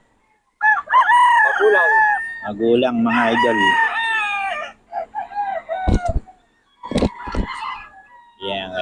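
Roosters crow loudly and repeatedly at close range, followed by scattered clucks and sharp flutters, while someone speaks briefly between the calls.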